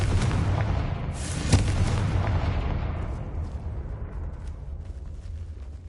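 The Confringo spell bursts in Hogwarts Legacy with a heavy booming explosion that rolls into a long rumbling decay, loud and close, with no talk over it.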